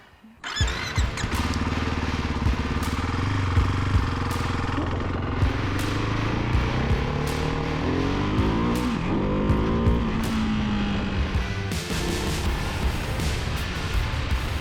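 A Ducati Hypermotard 698 Mono single-cylinder motorcycle engine roars loud and close, holding a strong continuous note with pitch sweeping up and down as it revs, alone without voices.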